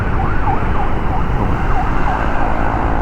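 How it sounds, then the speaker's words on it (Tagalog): An ambulance siren wails in repeated rising-and-falling sweeps along a busy provincial road in the Philippines, heard over steady traffic and motorcycle road noise. "Ambulansya."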